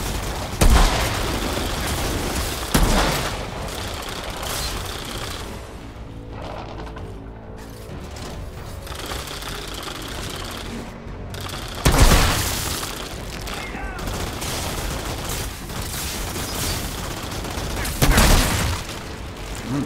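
Enemy heads exploding in the Outriders video game: four loud booming blasts spaced several seconds apart over continuous gunfire and combat noise, with faint talk underneath.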